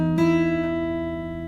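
A single fresh pluck on the high string of an acoustic guitar, fingerpicked with the middle finger, rings out close over a held open E-position chord and decays.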